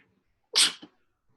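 A single close sneeze bursts out sharply and then fades with a short trailing exhale, set against near silence in an online chemistry class meeting.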